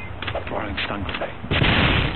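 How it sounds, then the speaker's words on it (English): A stun grenade goes off in a competitive shooter video game match, a sharp loud burst of noise about midway through that swells into a sustained rush, following a busy stretch of in-game clatter. "Tossing stun grenade."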